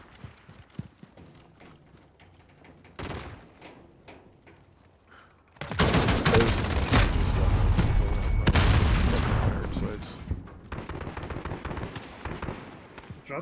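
A burst-fire rifle in the Modern Warfare video game on Xbox One unleashes loud, dense bursts of gunfire midway through, after a quieter stretch of scattered game sounds, then fades into lighter background effects.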